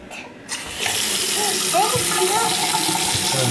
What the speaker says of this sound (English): It's a pretty good flush.